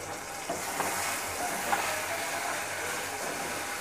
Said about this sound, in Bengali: এখন এটি আমি একটু নেড়ে চেড়ে নিব